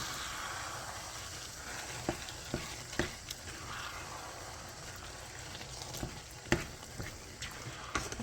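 Lasagna sauce and mixture are stirred in a pot over medium-low heat, giving a soft, steady bubbling sizzle with a few scattered spoon knocks, close but faint, without talk.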